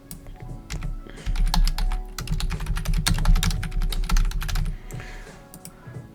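Rapid typing on a computer keyboard, dense bursts of quick clicks for about six seconds, close and fairly loud, with no voices.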